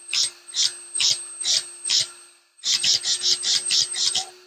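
An RC car servo runs in a 3D printed mount on a Team Associated B5M/T5M/SC5M, giving about ten close, buzzing whirs in two rhythmic groups separated by a short pause, over a steady low hum.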